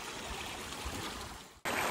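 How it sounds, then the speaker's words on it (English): A forest river in the Mallorca mountains flows with a steady close rush, broadband and even, then cuts abruptly to a louder, brighter burst of water noise near the end. "I just love a river running through a forest. I think there's nothing more beautiful than the water and the sound of it."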